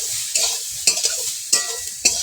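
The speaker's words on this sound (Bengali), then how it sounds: "লাল লাল করে ভেজে নেব" Soybean bori frying in oil while being stirred, with a soft background sizzle broken by several sharp scraping stirs at uneven intervals, close up.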